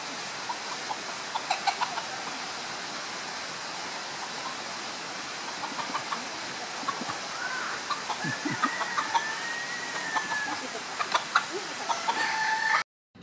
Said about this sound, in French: il faut que je termine d'attraper les poules